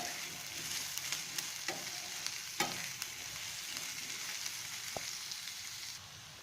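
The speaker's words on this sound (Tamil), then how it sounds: "வெங்காயம், பச்சை மிளகாய் வந்து நல்லா வதங்கணும்." Onions and green chilies sizzle steadily in hot oil in a pan for a Tamil black pepper chicken, with a spoon scraping and stirring in repeated sharp taps over the constant frying hiss.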